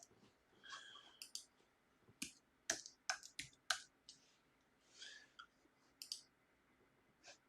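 Faint, quiet clicks of typing on a computer keyboard, scattered short taps and small clusters of keystrokes with pauses between, in an otherwise quiet room.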